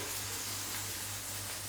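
Fish fillet fries gently in oil in a covered pan over low heat, a steady, even sizzle and hiss with no break.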